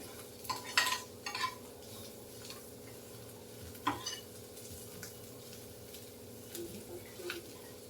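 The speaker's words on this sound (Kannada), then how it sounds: "ಈ ಥರ ಫ್ರೈ ಮಾಡಿದ್ದೆ 1 ನಿಮಿಷ ನೀಟಾಗಿ ಫ್ರೈ ಆಗಬೇಕು." Spinach chutney ingredients frying in a pan over low heat and being stirred, a steady soft sizzle under intermittent scrapes and clinks of a spoon against the pan, close and fairly quiet.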